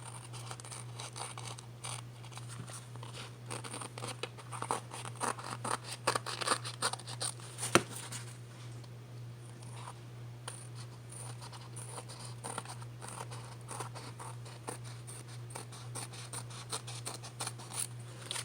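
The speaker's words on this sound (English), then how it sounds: "I would just go around and trim it all." Scissors trim around painted fabric mounted on cardstock, making repeated soft snips and crisp cuts at close range over a constant low hum, with no speech.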